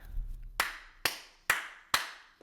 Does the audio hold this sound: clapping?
yes